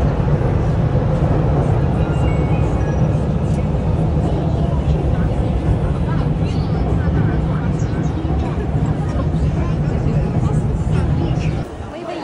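A subway train in Xi'an, China rumbles along with a steady low roar and rattling, loud and continuous, and murmured voices mix into the noise before it eases at the end.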